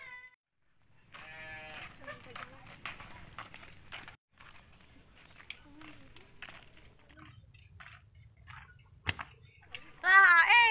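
Sheep bleat several times at close range in a farm setting, with wavering calls over a low background of shuffling and movement and a louder burst near the end.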